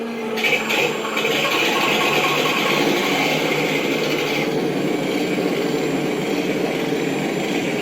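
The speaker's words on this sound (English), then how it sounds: "Here we go, starting up." An engine sound card in an RC B-25 model plane starts up, producing a steady, fairly loud mechanical whine and rumble that holds evenly without pause.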